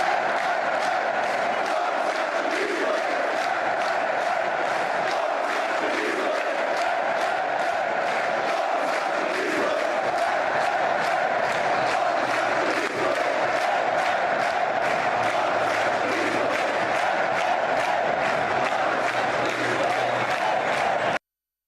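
Up to 7,000 Slovenian fans cheer their team inside the Sinan Erdem arena in Istanbul, a dense, continuous roar of crowd noise, applause and shouting that stays loud throughout with scattered chants rising above it.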